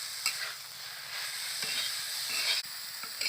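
Grated carrot halwa with sugar being stirred in a pan, a steady close sizzle with repeated scraping strokes of the spoon running throughout, no voices.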